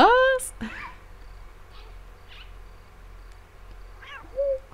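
A cat meows in the Costume Quest video game, a sharp rising meow at the start and a shorter one near the end, with faint ambient game sounds in between.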